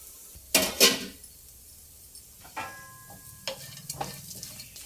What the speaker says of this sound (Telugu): కాకరకాయ వేగిపోయిందండి, వేగింది.